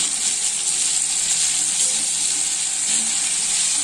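Onion, tomato and brinjal sauté in a pan for a chutney, giving a steady, bright hiss and sizzle that stays loud and even throughout with no voices.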